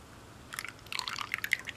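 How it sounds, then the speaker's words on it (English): A homemade face wash mixture is poured back into its container, giving soft, faint liquid drips and wet splashing sounds that start about halfway through and continue in irregular patters. "I'm just gonna pour it back in here so you could see what it looks like"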